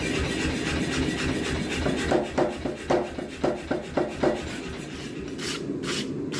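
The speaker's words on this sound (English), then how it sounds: "Let's brush her clean." A wire brush scrubs scale off a hot forged steel billet for an integral knife, about ten quick rasping strokes in a rhythmic run over a steady background roar from the forge.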